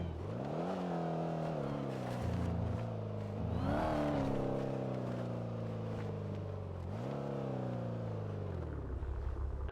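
A bus engine revs hard in repeated pulls, climbing in pitch, dropping back and surging again, loud and close throughout with no talk over it.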